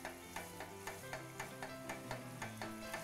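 Green papaya being stirred as it fries over low heat, with a steady broadband sizzle and a regular series of scraping stir strokes about every quarter second, close and moderately loud, without voices.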